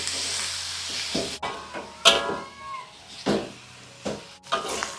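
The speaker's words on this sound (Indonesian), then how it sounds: "Jadi ini kita masak dagingnya." Pork is cooked dry in a pan with no oil added, fat rendering out as it fries, giving a quiet steady sizzle broken by several louder clattering stirs of the meat.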